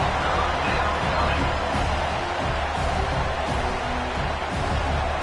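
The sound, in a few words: football stadium crowd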